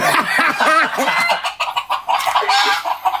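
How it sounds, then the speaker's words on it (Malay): Chickens cluck and a rooster gives a short crow close by in the opening seconds, followed by scattered louder squawks and background chatter. "Ayam mana kata ha? Ayam bising lah."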